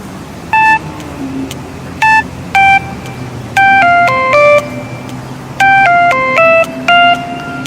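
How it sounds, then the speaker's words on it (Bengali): A phone rings with a sequence of bright electronic melodic tones, several short beeping bursts in an irregular tune over a low steady background hum, close and loud. "হঠাৎ ফোনটা বেজে উঠল"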